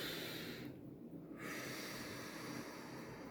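Slow, deliberate breathing close to the microphone, a steady airy inhale-exhale with a brief pause in the middle, soft and continuous with no talking.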